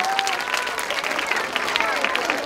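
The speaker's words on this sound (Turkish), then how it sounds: "Ama alkış yok mu bu tavşanımıza?" Audience applause after a magician pulls a rabbit from a hat, a lively burst of clapping from a crowd with voices and a whistle-like tone mixed in.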